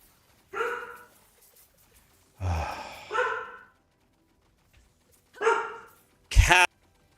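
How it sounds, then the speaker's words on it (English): An old dog barks in separate bursts: a single bark near the start, a double bark around the middle, then two more toward the end, the last sharp and loud, heard close with no talking. "She barks at everything and nothing is even happening."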